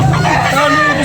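A rooster crows once, loud and close, in a brief burst with clucking fowl nearby.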